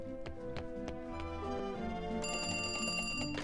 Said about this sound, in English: All you have to do is answer the phone.